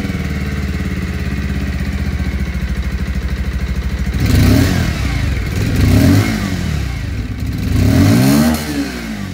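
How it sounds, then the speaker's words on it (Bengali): A 150cc twin-disc motorcycle idles with a rapid, even exhaust putter, then is revved three times in quick surges that rise and fall back to idle, loud and close. "এবার চলুন তাহলে আপনাদেরকে এবার আমি 150 টুইন ডিস্কের আওয়াজটাও শুনিয়ে দিই"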